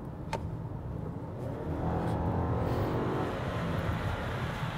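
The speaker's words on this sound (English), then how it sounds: "There's no pull, and then the turbocharger comes in and there's a gear change." A 2020 Volkswagen Passat with a turbocharged engine pulls away from rest with a low, faint engine hum that swells as boost arrives, followed by a gear change. It is muffled and heard from inside the cabin.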